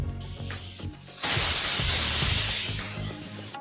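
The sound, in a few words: pressure cooker whistle while cooking chana dal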